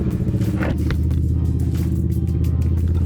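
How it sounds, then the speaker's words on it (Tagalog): A Kawasaki Z650 motorcycle exhaust idles steadily, a loud, low, continuous rumbling throb up close with no talk over it. "So pasado yung exhaust natin, no? Yung decibel niya nasa 70 lang."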